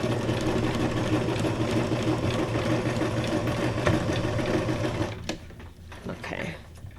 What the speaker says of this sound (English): That sewing machine sounds a little loud for some reason.